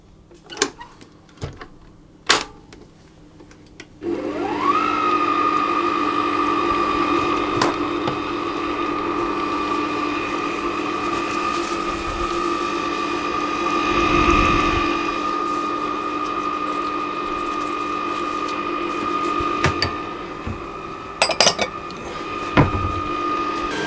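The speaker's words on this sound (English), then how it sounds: "I'm going to mix these ingredients together on a fairly low speed until it all begins to come together around the dough hook" A stand mixer fitted with a dough hook kneads brioche dough at low speed, a steady mechanical whir with a clear motor whine after a few clicks and knocks at the start, with occasional bumps near the end.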